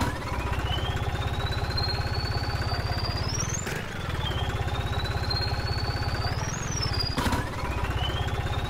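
New Holland 3630 tractor in Farming Simulator 19, its engine chugging steadily with a rhythmic low pulse and revving up twice, pitch rising then dropping back as gears shift, loud and close with no talk.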